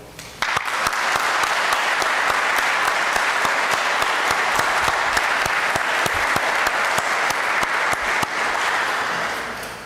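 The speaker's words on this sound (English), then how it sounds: "join me in a round of applause for the support team" Applause erupts at an ROTC commissioning ceremony, a sudden full round of clapping from a large audience that holds steady for several seconds before tapering off.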